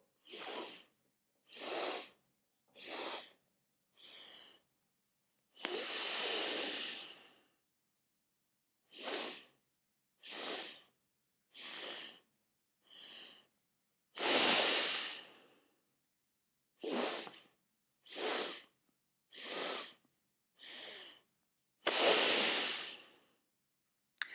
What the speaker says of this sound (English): I'm going to inhale in 4 segments, and then I'm going to exhale in 1.